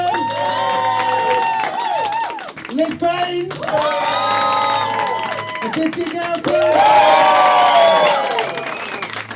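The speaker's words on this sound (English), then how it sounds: "Please, if you thought that, well, cheer for everyone, but cheer if you think it's the best." A comedy club crowd at a comedian-of-the-year heat cheers, whoops and applauds for the comedians in loud, sustained waves while a host speaks over the noise.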